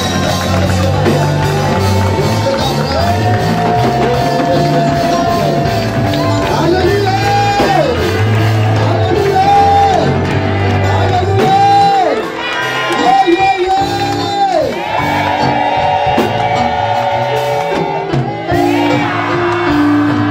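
Church congregation at a Sunday service cheering, shouting and whooping in acclamation, a loud sustained crowd roar mixed with music and voices throughout.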